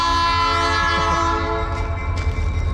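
A short train passes nearby, its horn sounding as a loud sustained tonal blast over the rumble of wheels and cars, with no talking.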